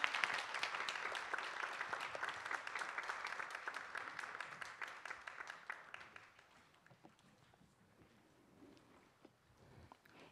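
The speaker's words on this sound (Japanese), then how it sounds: "会場の皆様大きな拍手でお見送りください" An audience at a symposium on infectious disease preparedness applauds, with crisp individual claps at first that gradually thin out and fade to scattered faint claps.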